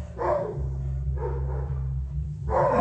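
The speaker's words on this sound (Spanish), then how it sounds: "son los perritos que están ladrando" Small dogs bark in three loud bursts spaced about a second apart, over a steady low hum, with no talking.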